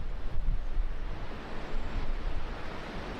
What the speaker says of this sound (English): Wondering about the gusts.